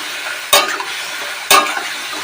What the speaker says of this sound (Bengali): দিয়ে দেবো সামান্য একটু হলুদ দিয়ে আরও কিছুক্ষণ নাড়াচাড়া করে ভেজে নেব